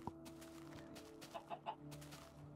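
Chickens cluck in Tekkit Classic, a modded Minecraft game: a few short, soft clucks bunch together midway over a steady low game hum, fairly faint and with no talk.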